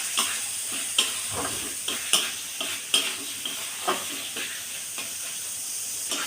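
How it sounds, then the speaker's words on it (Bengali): Fried potatoes stirred into a simmering spice masala in a pan for piyaji mola fish, a steady close sizzle and hiss punctuated by repeated sharp scraping strokes of the spoon about once a second. "আলুগুলো দিয়ে সামান্য একটু কষিয়ে নেব।"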